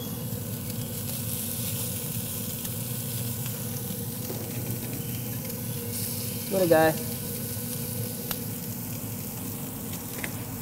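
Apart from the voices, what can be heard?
salmon burgers sizzling on oiled griddle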